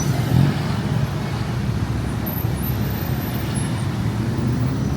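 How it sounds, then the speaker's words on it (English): Busy street traffic outside MBK Center in Bangkok, Thailand: a steady, dense roar of cars and buses with engines rumbling close by, continuous throughout without a break. "Traffic is crazy as usual on this beautiful day."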